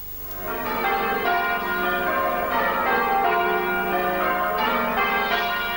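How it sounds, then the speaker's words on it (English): Church bells peal continuously in the village of Wingrave during VE Day celebrations in 1995, overlapping rings with rich ringing overtones, steady and moderately loud, with no voices. "The village of Wingrave resounded to the peal of church bells this morning"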